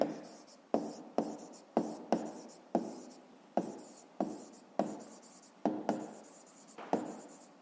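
Writing on a board during a fifth-grade maths lesson: a series of about a dozen sharp scratchy strokes, each starting with a hard tap and fading, close and alone at an uneven pace.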